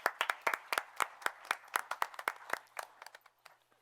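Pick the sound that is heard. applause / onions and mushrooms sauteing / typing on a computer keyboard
applause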